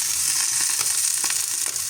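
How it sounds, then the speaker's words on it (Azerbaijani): Eggplant slices sizzle and crackle in hot oil in a frying pan, a bright steady frying hiss with scattered pops, close and loud, with no voices. "Badımcanları belə tək-tək qızardıram."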